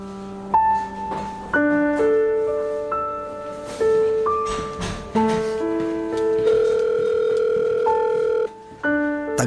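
Telephone ringing while the caller waits for an answer, a series of distinct tonal beeps and rings in changing pitches, clear and close, with short gaps between them and no speech.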